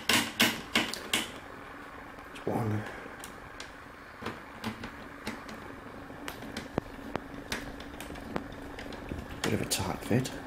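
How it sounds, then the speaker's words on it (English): Screws being driven back into the rear casing of a Samsung LE40A457C1DXXU 40-inch LCD television during a repair, giving a run of sharp, close ticking and clicking bursts with brief pauses between them, over a low room hum. "Just basically a matter of screwing these screws back in."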